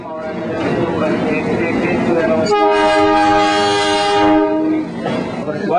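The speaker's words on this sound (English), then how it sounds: "Waiting for the train." A train horn at Kharagpur railway station blares in a long sustained blast through the middle of the clip, over rumbling station noise and nearby chatter.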